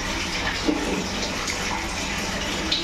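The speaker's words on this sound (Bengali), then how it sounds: "সামান্য জল দিয়ে চাপা দিয়ে দেবো" Water poured into a pan of new-potato curry (aloo dum), a steady close gushing splash lasting a few seconds, no talking.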